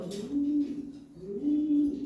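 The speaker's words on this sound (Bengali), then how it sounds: "আছে এক পেয়ার কবুতর" A pair of pigeons coo nearby, two drawn-out, low, throaty calls in a short close sequence against quiet background noise.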